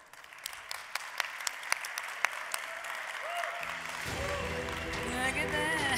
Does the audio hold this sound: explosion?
no